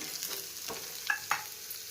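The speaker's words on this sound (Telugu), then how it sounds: "నేను ఇందులో ఎండ్రాయిలు వేసేస్తున్నాను మళ్ళీను." Dried prawns fry with browned onions in a pan, a soft steady sizzle with a few quick scraping stirs and light clinks up close, fairly quiet and with no talk.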